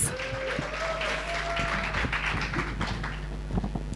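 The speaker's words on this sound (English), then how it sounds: "That was a very weak round of applause." Weak, scattered applause from a summit audience for a poet, thin clapping spread across the room against steady hall background noise.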